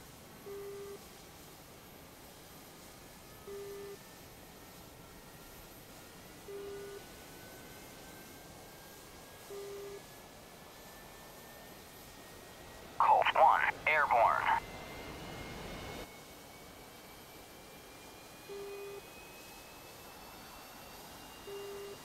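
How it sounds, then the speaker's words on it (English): A JAS 39C jet engine settles at idle after a cold start in a flight simulator game. It is a steady, low, even rumble throughout, with regular soft beeps and a brief spoken voice partway through. "The engine has reached its idle RPM."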